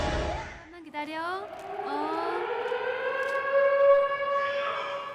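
A civil defense siren opens the 2010 Korean zombie film Neighbor Zombie, its wailing tone rising and sweeping steadily upward, then holding a long sustained howl, loud and alone after a brief opening sound.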